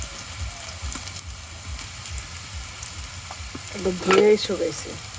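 Dried jute leaves sizzle in a pan while being stirred, a close, steady frying crackle with occasional scrapes that swells into a louder burst of stirring near the end.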